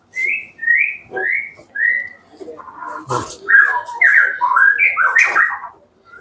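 A white-rumped shama delivers a series of clear, rich whistled phrases and chirps, close and loud, with brief pauses between bursts.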